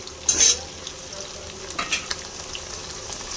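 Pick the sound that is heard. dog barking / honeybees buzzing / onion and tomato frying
onion and tomato frying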